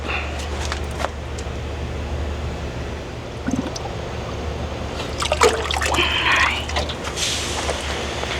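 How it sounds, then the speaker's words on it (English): Water trickles and splashes into a container in an urban garden, followed by sloshing and rattling as the container is shaken, set against a low steady background rumble. "add some water into this and then just shake it up"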